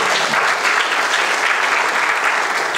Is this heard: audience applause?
yes